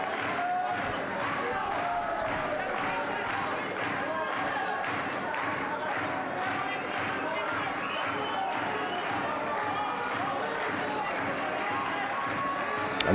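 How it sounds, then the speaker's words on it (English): A boxing arena crowd at a WBC 168lb title fight claps in steady rhythm, dense continuous pounding from a large audience with a commentator's voice running underneath. "this crowd keeps thumping out the claps"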